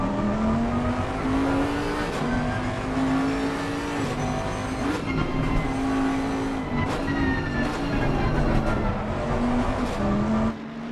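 A GT race car at Bathurst in a racing video game, its engine a loud continuous drone that rises and falls through gear changes for the whole stretch, with no voices over it.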